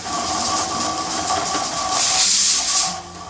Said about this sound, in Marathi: हे छोले बॉईल करून घेऊ आणि 5 शिट्ट्या काढून घेऊ।